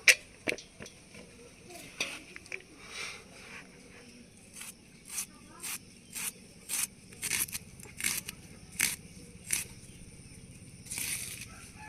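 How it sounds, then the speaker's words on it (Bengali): Thin slices cut from onions with a knife, a series of crisp, evenly spaced chopping taps on a board, close and clear, with occasional soft rustles in between. "পেঁয়াজগুলো এভাবে সরু সরু করে কেটে নেব"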